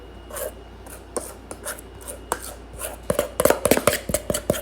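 Butterfinger pie filling spooned into a pie crust: a run of soft scraping and tapping strokes, sparse at first, then quicker and denser near the end, close and alone with no talk.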